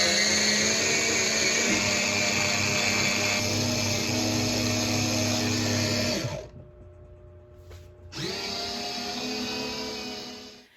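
A mini rechargeable washing machine running its daily wash cycle whirs loudly and steadily, cuts out to a near-silent pause for about two seconds, then resumes its noisy churning motor sound.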